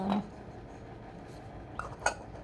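A bowl set down as a lid over a cooking pan in a home kitchen during preparation of spinach and a potato-pea curry, giving a quiet clink at the start and another brief clink near the end.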